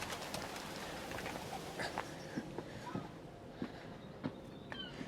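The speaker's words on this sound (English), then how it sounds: "Just had a big flock of birds" Faint, distant birds of a big flock coo and flutter over a steady outdoor background hiss at Henley-on-Thames, with scattered soft calls and wing sounds.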